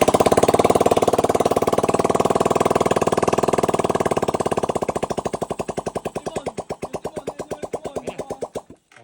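A Raider 150 motorcycle engine runs after a cylinder head swap, first in a fast, even, loud putter, then slowing into distinct spaced pulses as it winds down and cuts off.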